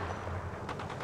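Apex Legends gunfire crackles in a quick burst of several rapid shots toward the end, moderately distant over a dense game background.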